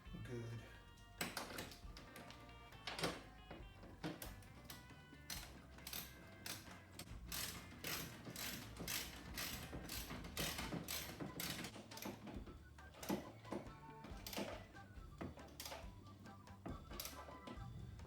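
Bolts on a Sunbug's new running boards being tightened by hand, giving a steady run of close, sharp ratcheting clicks and taps with metallic mechanical rattles throughout.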